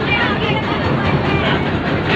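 A trade fair ride train rolls along with a continuous loud rumbling clatter, and crowd noise blends into the background.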